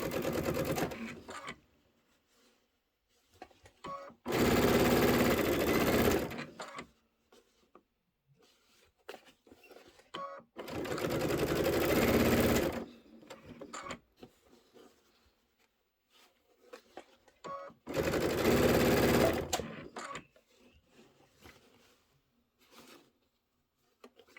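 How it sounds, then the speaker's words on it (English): A sewing machine runs a locking stitch along a quilted pillow's border and flange, in three close bursts of rapid whirring, each lasting a couple of seconds, separated by quiet gaps with faint handling noises. "And I'll do a little locking stitch right there."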